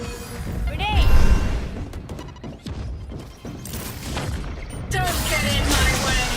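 Heavy blasts and crashing impacts from a grenade in Valorant, several loud booms with whooshing debris across the clip, mixed with gunfire and game sound effects.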